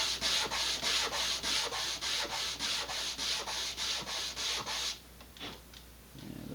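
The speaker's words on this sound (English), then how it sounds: "The middle ones are not quite sanded yet, so a little bit more." Close, steady sanding strokes on model rocket fins for an Estes Sasha build, a rhythmic run of about fifteen evenly spaced rubbing passes that stops near the end, followed by a few quieter scrapes.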